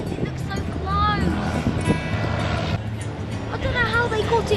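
An aeroplane flies overhead, a broad rumbling roar that runs steadily beneath people talking and exclaiming.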